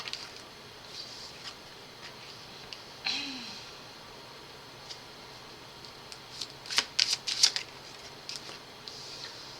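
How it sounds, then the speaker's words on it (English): Quiet stretches broken by soft papery riffles and a burst of rapid card-shuffling clicks near the end, close up with no talking. "If you don't like the shuffling, you can always fast forward a little bit."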